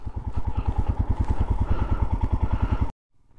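Motorcycle riding off-road on an icy track in the Spiti Valley, a close, loud engine chugging in a rapid steady beat with clatter, cutting out abruptly near the end.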